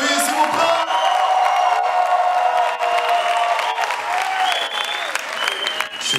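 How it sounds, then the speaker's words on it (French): A concert crowd bursts into loud applause and cheering, with whoops and shouts riding over a continuous roar of clapping that swells and shifts in waves, close and energetic. "Est-ce que ça va par applaudissement, par bruit"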